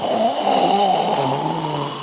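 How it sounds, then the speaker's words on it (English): A loud snore plays from a recording, a single drawn-out, rough breath lasting about two seconds before it fades slightly at the end. "he snores loud"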